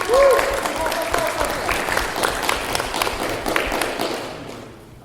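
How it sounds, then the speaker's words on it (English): An audience at a G-Fest fan convention panel gives dense, sustained applause that fades out over several seconds. Faint voices sound beneath the clapping. "So, round of applause."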